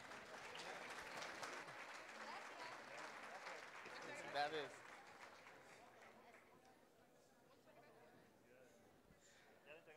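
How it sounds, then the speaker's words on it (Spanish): Crowd applause at a collective wedding ceremony honouring sponsors, a broad wash of clapping that fades over several seconds, with a voice talking over it. "El aplauso para los patrocinadores"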